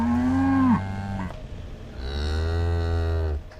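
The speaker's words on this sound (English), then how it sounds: "and past several herds of cows" Cows in a herd on open grassy plains moo loudly and close, two long drawn-out calls separated by a short pause.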